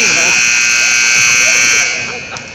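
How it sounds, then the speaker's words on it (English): Intermission buzzer at a championship basketball game, a sustained loud electronic tone holding for nearly two seconds before cutting off, followed by fainter arena noise. "we should hear the buzzer any moment now as the intermission clock has run down to 0"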